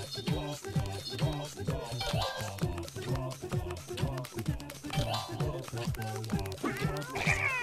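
A pet cat meows and yowls repeatedly over steady music with a strong rhythmic beat, the cries rising in pitch at times and partly masked by the loud backing track.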